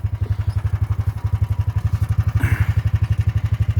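A Hammerhead go-kart with a 420cc engine idles close by, a loud, even, rapid thumping putter that holds steady throughout, with a brief rattle partway through.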